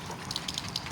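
Water gushing steadily from a pipe torn open by a passing bike, a continuous rushing spray with small splashy bursts, close and fairly loud, no talking.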